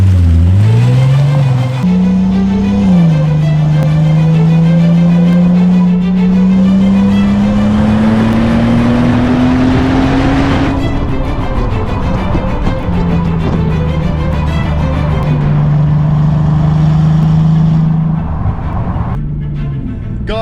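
A Bentley Continental GT drives along with a loud, close engine drone that rises steadily in pitch as it accelerates, eases back, then holds an even cruising hum over road and wind noise.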